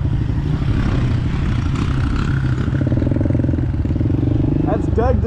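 A dirt bike engine runs loud and close inside a dealership, a steady throbbing rumble with slight revving toward the end, and people talk over it.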